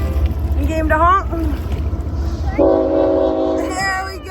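A boat horn gives a long, steady honk on the Mississippi near the St. Croix confluence, heard from paddling canoes, with excited voices calling out before and after.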